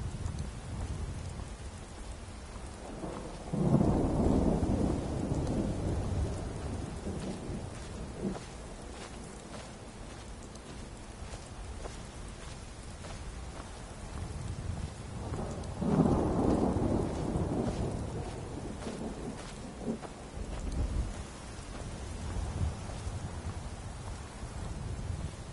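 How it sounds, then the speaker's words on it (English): Steady rain hisses throughout a Skyrim game scene near Whiterun, with two deep rumbling thunderclaps rolling in a few seconds in and again midway, fairly quiet overall. "It'll just mean I'll be out in the rain a little bit longer."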